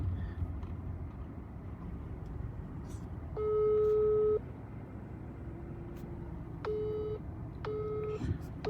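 A phone call made outside a supermarket in Saudi Arabia gives a long electronic tone, then is cut off, followed by two more short tones over faint background hum.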